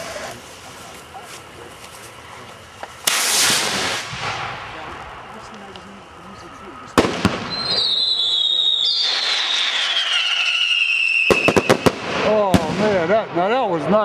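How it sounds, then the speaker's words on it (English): At an open fireworks shoot night, rockets launch with whooshes and a rising whistle, followed by sharp loud bangs and crackling bursts, while a man calls out briefly. "Rocket! There we go."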